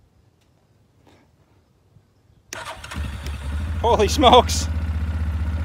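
After near silence, a crash-damaged Yamaha Grizzly 450 ATV with a carburetor and the choke on cranks and fires up at once. It settles into a steady, close idle while a voice exclaims over it.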